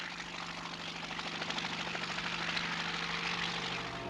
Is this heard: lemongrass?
no